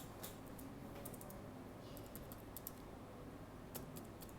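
Quiet typing on a computer keyboard, with scattered soft key clicks in short bursts over a steady background hum.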